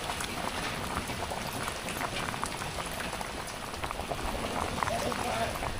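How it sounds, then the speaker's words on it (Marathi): Crab curry bubbles in a pot over an outdoor wood-fired stove during rain, a steady dense boiling and hissing bubble that continues throughout, with a voice talking over it. "हे बघा उकळी आले मस्तपैकी."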